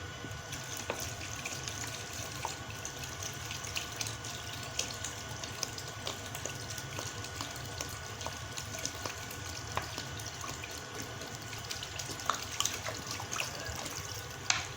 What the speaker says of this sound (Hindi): ये देखिए मैंने तकरीबन 2 लीटर इसके अंदर पानी डाल दिया।